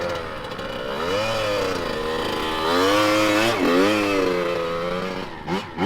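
A dirt bike engine warming up, revving in a steady, loud buzzing drone with rising and falling pitch, close by and continuous, with a brief dip near the end.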